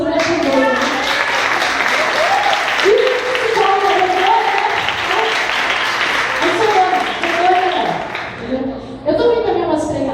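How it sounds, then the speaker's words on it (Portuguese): A church congregation bursts into sustained applause and clapping with cheers, loud and close, while voices call out over it and fade toward the end. "Pode dar um aplauso do Senhor"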